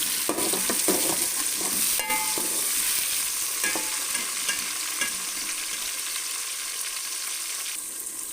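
Tomatoes and green chilies go into browned onions frying in a pan, bringing a loud, close sizzle with clattering stirs early on that gradually settles into a softer, steady hiss.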